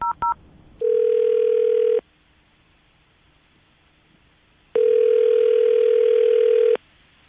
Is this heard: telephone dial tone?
yes